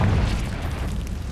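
A deep booming blast from the Confringo fire spell in Hogwarts Legacy, a single loud, close explosion that rumbles and fades over about a second.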